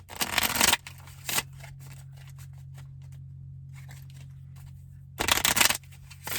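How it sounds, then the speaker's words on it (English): Two loud riffling bursts of cards being shuffled, one at the start and one near the end, separated by quiet handling and a low hum. "Let me shuffle it a couple more times."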